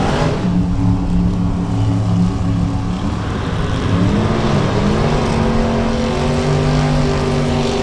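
1969 Camaro drag race car in creamsicle orange launching down the track at Texas Motorplex, a loud, sustained high-revving engine roar with shifting pitch as it pulls away down the strip.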